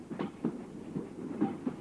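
A moving train rumbles at a steady low level, with soft, evenly spaced clatters rising every half second or so as the wheels pass rail joints.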